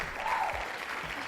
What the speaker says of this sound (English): Round of applause, a big one.